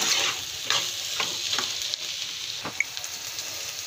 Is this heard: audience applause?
no